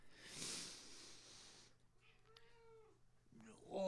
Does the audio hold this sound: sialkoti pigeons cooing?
no